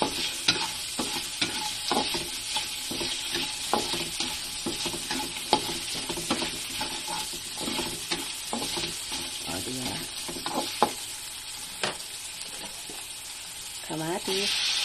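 Chayote being sautéed in a pan for ginisang chayote, giving a steady close sizzle and crackle with repeated scraping stir strokes from start to finish.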